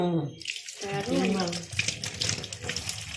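Water pours and splashes in a steady stream while raw hilsa fish is washed at a sink, close by, with a brief voice near the start.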